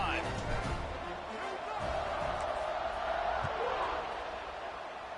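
Steady stadium crowd roar from a College Football 26 game, a continuous broad wash of cheering that holds at an even level for the whole stretch without pausing.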